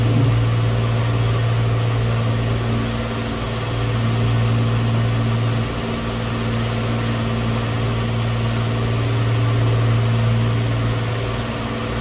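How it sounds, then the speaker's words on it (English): A Rotax 503 aircraft engine runs steadily in Microsoft Flight Simulator, giving a loud, continuous droning hum with a strong low tone that holds for the whole stretch, with no talking. "We got a Rotax 503 engine for it."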